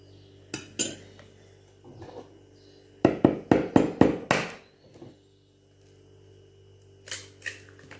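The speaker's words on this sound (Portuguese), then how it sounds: "Agora eu vou misturar bem para incorporar todos os ingredientes e acrescentar 2 ovos." A utensil clinks and scrapes against a bowl while ingredients are mixed, with scattered sharp taps, then a quick burst of about six rhythmic strikes in the middle and a few more near the end, close and clear.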